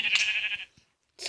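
A sheep in a video game gives a loud, wavering bleat lasting over half a second, followed by a brief pause and the start of another bleat.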